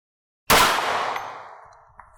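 A single loud gunshot strikes a washing machine, an abrupt bang followed by a long metallic ring that decays over nearly two seconds, with a faint clink near the end.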